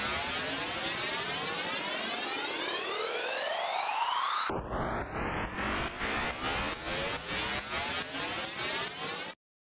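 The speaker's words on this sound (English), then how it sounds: "If I were to disable the sidechain, it would sound like this." An electronic song build-up without sidechain compression: a loud rising synth sweep climbs steadily, then switches to a dense repeated pulsing chord pattern with upward-gliding tones, ending abruptly.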